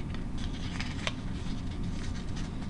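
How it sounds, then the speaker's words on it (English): Paper being folded for an origami Naboo starfighter gives faint, close crinkles and crisp little snaps over a soft background hum. "you're going to take this tip and you're going to fold it down like this"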